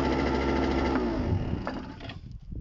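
A cold scooter engine revs high on its automatic choke, a buzzing, busy whine held steadily, then tapering off and cutting away at the end.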